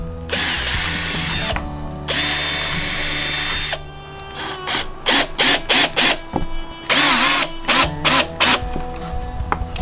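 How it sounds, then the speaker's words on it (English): A power drill drills holes for a Triumph Tigress motorcycle seat, whirring in long sustained bursts, then boring in a quick series of short pulses, close and loud, with no talking. "we'll go ahead and drill those out"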